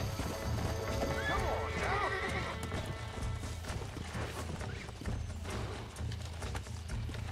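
Horse hooves clip-clopping and a clear whinny in the Western video game Red Dead Redemption, the neigh rising early over steady trotting, with someone talking throughout.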